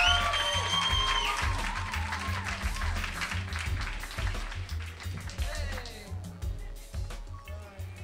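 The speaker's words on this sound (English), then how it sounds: "big round of applause for the artist of the day, ladies and gentlemen" An audience applauds a singer at a live show, with a broad wash of clapping that carries on under a voice and fades slightly toward the end.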